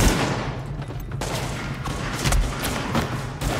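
Sustained gunfire in The Division video game, a dense run of overlapping shots and bursts with heavy low thuds, loud and continuous throughout without speech.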